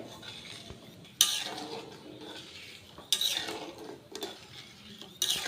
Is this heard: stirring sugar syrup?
yes